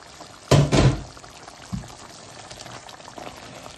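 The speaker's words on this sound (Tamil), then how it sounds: "இப்போ வெட்டி வச்ச சிக்கனை நாங்கள் இதுக்குள்ள போடுவோம்." Cut chicken pieces drop into a pot of simmering chicken korma with one loud splashing plop, a smaller knock a moment later, then a low bubbling simmer in a quiet kitchen.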